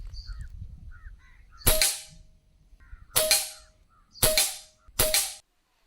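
Four suppressed shots from a GARE Karbin PCP air rifle, each a sharp crack with a short ringing tail, the last three spaced about a second apart, against quiet outdoor background with faint bird calls.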